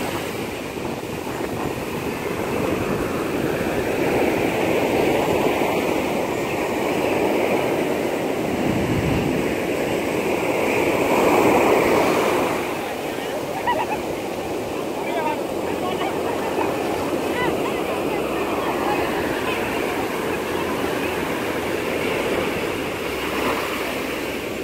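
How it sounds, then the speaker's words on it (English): Wild ocean surf crashing onto a beach in Goa, a steady broadband roar that swells and recedes, with a louder surge near the middle, heard close and continuous with no talk. "The waves are just like wild today"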